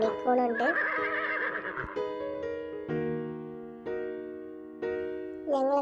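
A horse-like neigh standing in for a unicorn, a loud, close whinny with wavering tonal calls that recur several times across the clip.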